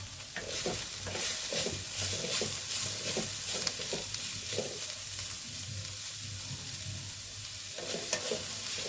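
Amaranth leaf fry being stirred in a pan over low heat, with a constant soft sizzle under a run of repeated scraping stirs at a fairly even pace, close and moderately quiet.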